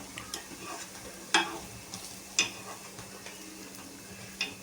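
Green moong appe frying in an appe pan on the gas stove, a quiet continuous sizzle broken by several sharp metallic clicks and taps of a utensil against the pan, no voices.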